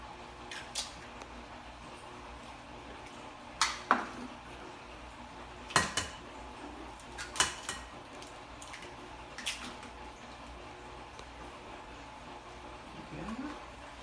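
Eggs cracked one at a time into a mixing bowl during home baking with a child helping, giving a few sharp, scattered clicks and taps against the bowl, separated by quiet kitchen background.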